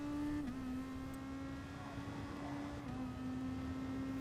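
A race car in Gran Turismo Sport accelerates out of a corner at Fuji International Speedway, with a steady droning engine note that dips briefly at the shifts. It is moderately quiet and continuous, with no talking.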